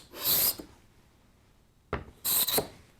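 Steel card scraper being sharpened and set, with the thumb screw snugged against the blade, drawn across wood in three short rasping strokes, near and fairly loud, with quiet pauses between.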